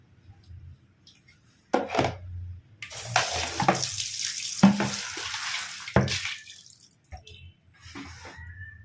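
Water runs from a tap in uneven bursts while clothes are sloshed and scrubbed by hand nearby, with a voice talking at times.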